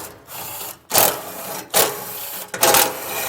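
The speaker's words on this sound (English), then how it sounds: "Grab your socket and get them removed." Ratchet or socket wrench working 13mm bolts on a 2022 Chevrolet Colorado bumper, three loud rasping bursts of ratcheting, close up, with brief pauses between.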